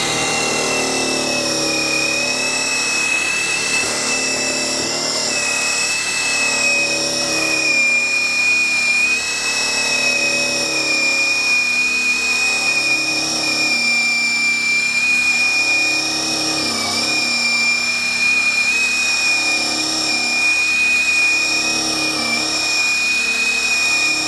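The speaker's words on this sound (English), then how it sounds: "So let's fire this thing up and see what it does." A Baikemon cordless burnisher runs continuously on stained wood, giving a loud, steady motor whine with a constant pitch that holds close and unbroken for over twenty seconds with no talking.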